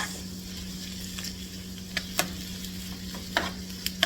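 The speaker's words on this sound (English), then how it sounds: "So, we're sauteing this maybe 3 to 5 minutes." Vegetables for meatloaf sauté quietly in a pan, giving a soft, steady sizzle with a low hum and a few sharp ticks of stirring scattered through, close by and with no one speaking.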